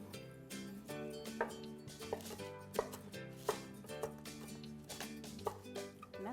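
Greens for turkey meatball soup chopped on a board: a steady run of sharp knife taps at close range over a continuous background of music, roughly two to three cuts per second.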